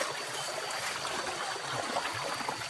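Fast-flowing stream water at night during crab hunting, a faint, steady rushing and trickling wash with no voices over it.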